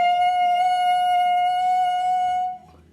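A clarinet mouthpiece and barrel with a reed are blown together, producing one loud, sustained, slightly buzzy reed tone close up that holds steady for over two seconds before cutting off.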